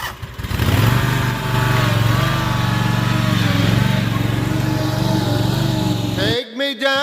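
A stand-on lawn mower runs during an autumn leaf clean-up. Its engine holds a loud, steady drone that starts abruptly and carries on for several seconds, then cuts out briefly near the end.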